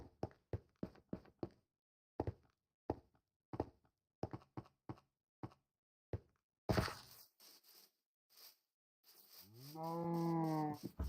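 Cows moo in the Minecraft video game: a long run of crisp, evenly spaced taps gives way to a loud, drawn-out bovine moo near the end.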